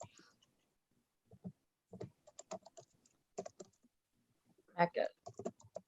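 Quiet tapping on a phone's on-screen keyboard, heard as short clusters of soft clicks with gaps between them, alongside a softly speaking voice.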